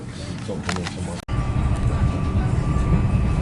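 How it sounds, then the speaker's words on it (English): Interior rumble of a moving train carriage, steady low rolling noise with a brief dropout, and a voice talking over it close by. "Quite a quiet train, this one."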